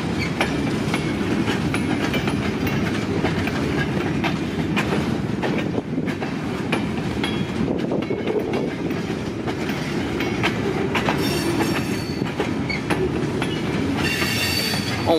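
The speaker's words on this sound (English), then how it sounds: "heard the train." A long freight train rumbles past up close, wheels clacking and squealing continuously, with wind buffeting the mic throughout.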